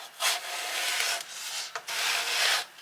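A knife slices through a whole watermelon in a close, steady rasping cut with a brief pause partway, quiet overall with no voices.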